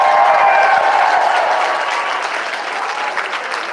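Loud, sustained applause and cheering from a large crowd at a Trump rally in Las Vegas, dense and continuous, fading slightly toward the end.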